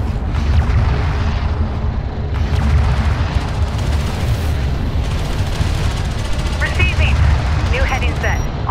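A missile corvette fires an EMP in the Homeworld Remastered space-combat game, set within a dense, continuous roar of weapons fire and booms that fills the whole stretch, with voices talking over it.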